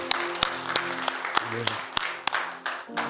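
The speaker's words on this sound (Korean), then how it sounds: "우리 하나님께 영광의 박수" Congregation clapping in a Korean church service, a steady run of fairly close claps over organ or keyboard chords, with a brief spoken word near the end.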